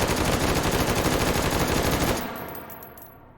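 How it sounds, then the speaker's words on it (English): An M2 carbine fires a loud, rapid full-auto burst in the H3VR virtual reality shooting game, a dense rattle of shots lasting about two seconds before the echo fades away. "let's move on to the M2, and we're going to do it in full auto"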